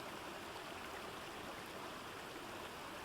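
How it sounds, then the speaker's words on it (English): A natural waterfall cascades steadily, a dense, even rush of falling water that holds constant throughout at moderate distance, with no voices. "watching the never-ending cascade of water"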